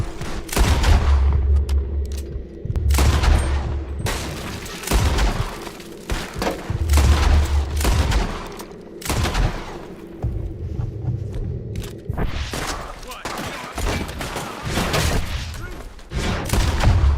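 Gunfire from Red Dead Redemption 2 rings out in repeated bursts and booming volleys, loud and close, with heavy low thumps and rumble between shots across the whole stretch, while voices talk over parts of it.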